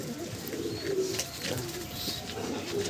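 Madrasi pigeons in a loft give low, soft cooing calls that ripple on and off over a steady background hum, fairly close and moderate in level, with no talking.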